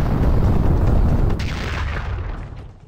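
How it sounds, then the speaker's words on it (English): A rocket launcher explosion booms from an animated Death Battle fight, a loud, deep blast that rumbles and slowly fades, with no talk over it. "Rocket launcher."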